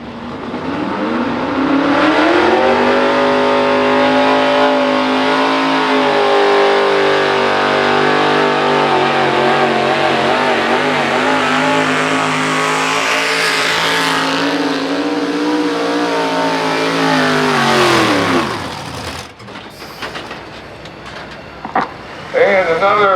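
A 1967 Chevy pulling truck at a truck pull roars loud and close for nearly twenty seconds, its engine pitch sweeping up and holding under strain before cutting off abruptly, with an announcer talking over it.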